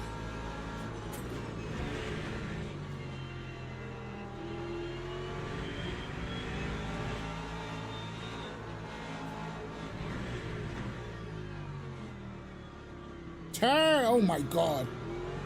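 A Mercedes AMG race car engine in the Le Mans Ultimate racing game howls down a straight, rising and falling through gear changes under a player's excited talk. A sharp, loud burst of engine roar comes near the end.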